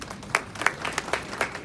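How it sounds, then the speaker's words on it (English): A small audience at a finance ministry briefing gives a short round of applause, a handful of distinct claps spaced irregularly, fairly faint and brief. "And a round of applause for ourselves"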